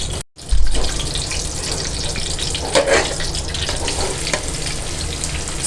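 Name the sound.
ginger frying in desi ghee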